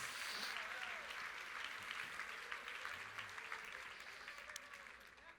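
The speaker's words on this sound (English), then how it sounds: "Big round of applause." Audience applause after a magic trick at an evening entertainment show, a faint, distant, continuous patter of clapping that slowly fades.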